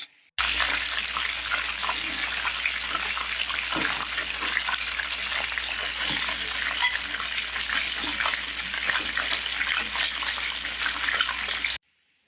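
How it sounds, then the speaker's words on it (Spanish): Floured chicken wings for mango habanero wings fry in hot oil, a loud, dense, continuous sizzle and crackle that starts abruptly and holds steady for about eleven seconds before cutting off. "Quedaron perfectamente bien enharinadas las alas y vamos a llevarlas a freír."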